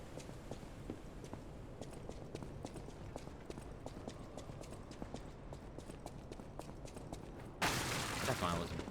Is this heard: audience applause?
no